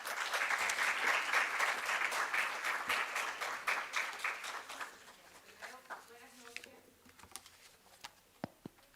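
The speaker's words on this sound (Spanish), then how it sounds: "Démosle un fuerte aplauso a Damaris Young." Audience at an expert panel on sports ecosystems applauding loudly, dense clapping that swells then thins out into scattered claps, with a few voices near the end.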